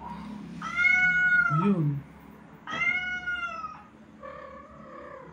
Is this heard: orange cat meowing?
yes